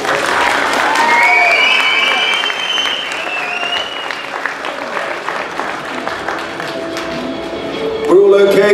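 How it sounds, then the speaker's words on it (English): An audience at a bodybuilding competition, a toned-class lineup, claps in a loud, dense burst that gradually thins, mixed with crowd noise and some cheering voices. "Give a big round of applause, back in line."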